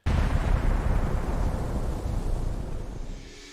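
Explosions in a city captured in drone footage, a sustained deep rumbling roar that starts abruptly and slowly fades, heavy low-end boom with wind-like noise, no voices.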